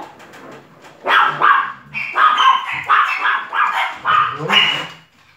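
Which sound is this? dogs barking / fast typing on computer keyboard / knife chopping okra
dogs barking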